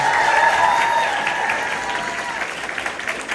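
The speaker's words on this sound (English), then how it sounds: "So fair dues to a huge round of applause to each and every one of our contestants." A room full of people applauds the contestants of a student pageant, a steady wash of clapping that starts strong and slowly tapers while staying continuous.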